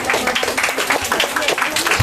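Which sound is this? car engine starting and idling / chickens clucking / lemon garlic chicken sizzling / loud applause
loud applause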